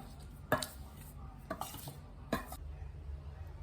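Banana cake batter with a pinch of salt is stirred in a bowl, three soft scraping strokes with clinks from the utensil, faint and close.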